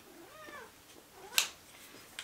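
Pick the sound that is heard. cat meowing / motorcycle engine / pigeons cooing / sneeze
cat meowing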